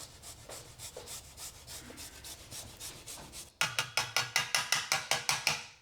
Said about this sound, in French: Ici, j'utilise ma fameuse râpe. Et ensuite, je vais faire pareil avec une gousse d'ail.